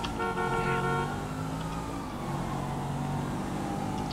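A car horn blares in a chaotic police chase in the video game GTA V. It sounds as a sustained, slightly wavering honk over a constant engine and traffic rumble.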